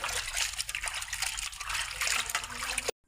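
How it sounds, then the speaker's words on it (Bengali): Tube well water gushes and splashes steadily while a chicken is washed, a loud continuous rush close by that cuts off abruptly at the end. "আমি টিউবওয়েলে পানি দিয়ে মুরগিটা ভালো করে ধুয়ে নিয়ে যাই"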